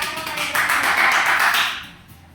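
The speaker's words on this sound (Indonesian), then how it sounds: "kita kasih tepuk tangan dulu ya" A classroom group claps for a student group after a microteaching presentation, a short burst of many hands that swells, holds for about a second, then fades away.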